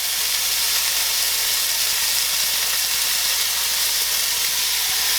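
Spiralized zucchini stir-frying in a hot pan for keto chicken chow mein, giving a dense, continuous loud sizzle and steam hiss with no voices.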